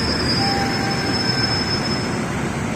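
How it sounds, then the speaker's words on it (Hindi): The Bandra Amritsar Paschim Express stands at a station platform, giving off a steady broadband rumble with a faint high whine, continuous and moderately loud with no talk. "तो गाइस ये खड़ी है बांद्रा अमृतसर पश्चिम एक्सप्रेस।"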